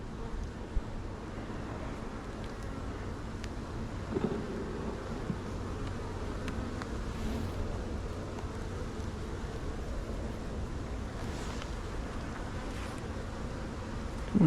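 Honeybees buzzing around an open hive with brood and stores, a faint, continuous low drone at a distance with occasional louder passes, no talking.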